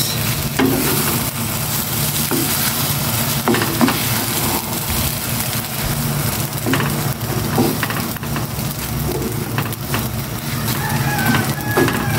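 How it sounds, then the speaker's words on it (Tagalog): Loud, close sizzling of garlic sautéing in a pan for fried rice, a continuous crackle with scraping stirs throughout; a rooster crows faintly in the background. "Gisa ko na itong bawang para sa sinangag naman"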